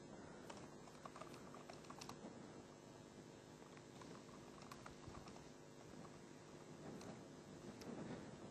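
Typing on a computer keyboard in a quiet room: a steady, faint stream of light key clicks with small bursts and brief pauses throughout.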